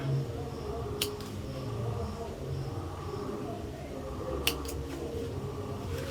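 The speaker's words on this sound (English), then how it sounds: "And then cut this tail." Scissors snip a crochet yarn tail on a daisy puff flower, giving two brief, sharp cuts over a steady low background hum.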